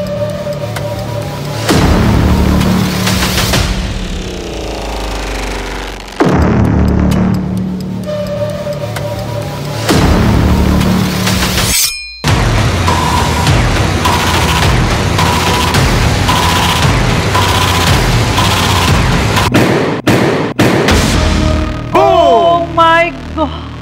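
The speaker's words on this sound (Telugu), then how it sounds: "మీ ఫస్ట్ బాంబ్ బ్లాస్ట్ అయిపోయింది" Staged bomb blast in a TV game show, a loud repeating ticking and pulsing effect track with booming hits that cut to a sharp break halfway, then more ticking and rapid crackling bursts toward the end.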